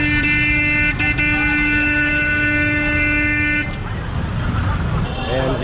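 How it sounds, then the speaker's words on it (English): Chaotic street traffic in a busy Cairo market area, with steady engine rumble and several car horns tooting in short bursts nearby, continuous and fairly loud. "Traffic is chaotic."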